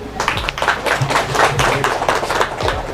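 Audience clapping at a marketing talk in Indonesia, a dense burst of hand claps from a room full of people, steady and fairly loud over about three seconds with a faint voice briefly underneath.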